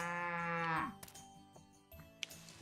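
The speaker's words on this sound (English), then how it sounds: "There's Nida. Cute little cow." A cute little cow in a video game lets out one loud, drawn-out moo, followed by soft clicks and light game sounds.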